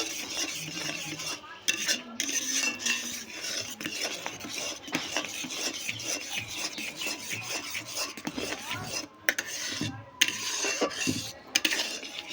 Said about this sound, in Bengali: এখন আমি একটু একটু করে উপর দিয়ে ছড়িয়ে দেবো দিয়ে একটু ভালো করে নেড়ে নেব